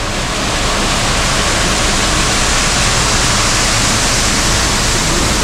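Concord Waterfall in Grenada roaring steadily and loudly, a dense, unbroken rush of falling water filling the scene with no voices.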